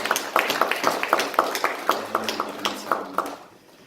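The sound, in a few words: applause in a church service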